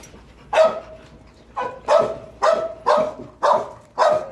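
Dogs barking nearby while being introduced to a poorly socialized dog named Zeus, six loud, sharp barks spaced roughly half a second apart, alone with no talk.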